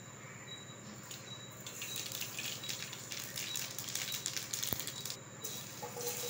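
Mustard seeds crackle and pop in generous hot oil in a kadai, a dense, steady patter of tiny sputters lasting throughout with a few sharper snaps standing out, no voices.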